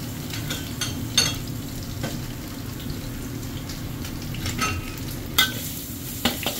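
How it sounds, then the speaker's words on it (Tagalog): Garlic sizzles steadily in hot cooking oil in a pan, a close, continuous frying hiss with occasional stirring clicks and a few brief louder pops. "Ilagay na natin yung bawang."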